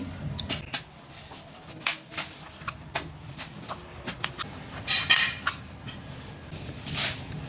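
A knife scrapes and peels raw man kachu (giant taro) in short, uneven strokes, with close, light scratching and clicking and an occasional metallic clink, and no talking.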